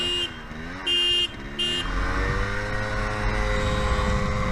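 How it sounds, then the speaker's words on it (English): Horn honks ring out in two loud bursts near the start, followed by a rising engine roar from a motorcycle in a drag race setting between a Yamaha RX-135 and a Royal Enfield Bullet. "You want to do the honk thingy?"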